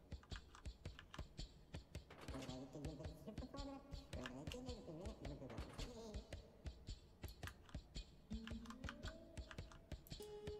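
Computer keyboard keys clack in quick, uneven bursts of taps while playing the game Molecats, close and steady, with faint game tones underneath and no talking.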